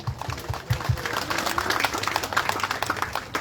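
At a Christmas gathering in Timika, Papua, a church congregation claps their hands. The claps are soft and scattered at first, then settle into a loose, fairly quiet patter that runs through the whole moment.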